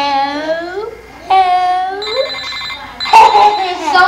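A small toy phone rings with bright electronic trills beside children's and adults' voices talking over it, the ringing tones chirping in short bursts up close.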